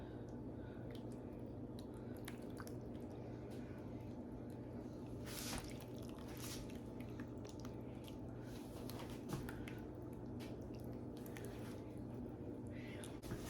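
Fresh gravy straight off the stove is poured over a sausage breakfast casserole in a home kitchen, giving faint, close squishy, wet pouring and dripping sounds.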